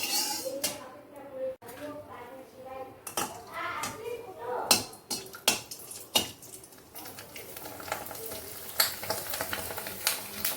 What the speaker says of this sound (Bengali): এই যে এখানে কড়াই চাপিয়ে দিয়েছে এখন একটু পাঁপড় ভাজি